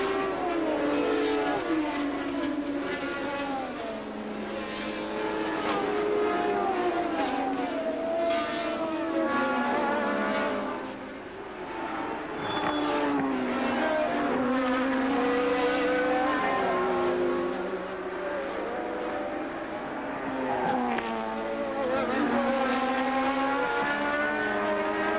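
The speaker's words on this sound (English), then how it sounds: "Rosberg went past Arnoux." Formula One race cars from the 1982 season scream past with a continuous high-pitched engine howl. Pitch sweeps rise and fall as the cars shift gears and pass one after another, loud and sustained for the whole stretch.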